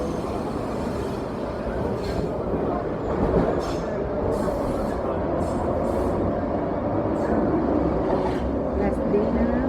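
Steady interior rumble of a train ride in Munich, Germany, with continuous rail and car noise throughout and faint voices under it.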